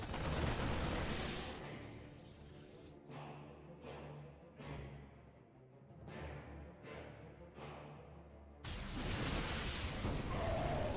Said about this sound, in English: Colossi shots, a couple of Marines going down